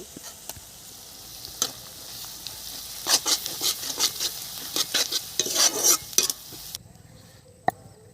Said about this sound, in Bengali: পেঁয়াজ হাফ ভাজা হয়ে গেছে আমি রসুন বাটাটা দিয়ে দিচ্ছি